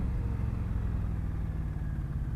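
A 2018 Indian Scout Bobber motorcycle engine runs steadily close by, a continuous low rumble with no pauses or sharp revving.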